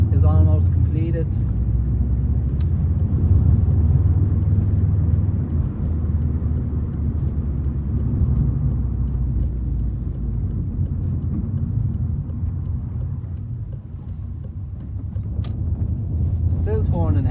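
A Subaru Impreza WRX STI wagon drives on a road, its steady engine drone and road rumble running throughout while a person talks over it.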